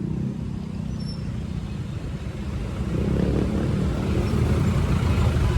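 Street traffic hums steadily at a roadside stop in Cebu City where buses and jeepneys pick up riders, a continuous low rumble of engines that swells slightly as vehicles draw nearer.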